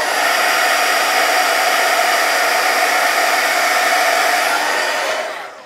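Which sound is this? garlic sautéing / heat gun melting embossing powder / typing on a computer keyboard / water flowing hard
heat gun melting embossing powder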